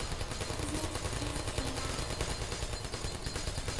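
Rapid, continuous automatic gunfire from turrets in the video game Portal, a dense, steady rattle of shots sustained at high loudness with no pauses.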